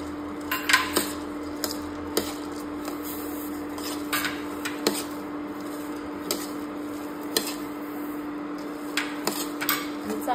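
Pumpkin seeds dry-roasting in a pan in a home kitchen, with a soft continuous sizzle and a constant hum under occasional clinks and scrapes of a utensil stirring against the metal.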